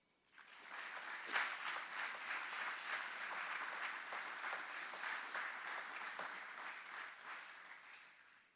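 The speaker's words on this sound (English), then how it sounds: "Please join us in giving a round of applause to those outstanding drill sergeants and instructors" Sustained audience applause rises and fades at an Army aviation brigade graduation ceremony at Fort Eustis, a soft, steady patter of many hands heard at a distance.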